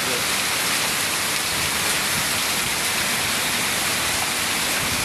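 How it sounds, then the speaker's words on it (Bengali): A heavy hailstorm with rain pours down as a loud, dense, unbroken roar of hiss and patter, steady from start to finish with no voices. "প্রচুর পরিমাণে শিলাবৃষ্টি পড়তেছে"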